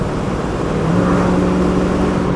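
A 1966 Ford Mustang with a 302 V8 engine accelerating on the road, heard from inside the car: a loud, steady low engine drone that rises slightly in pitch.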